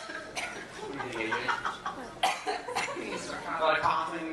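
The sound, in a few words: coughing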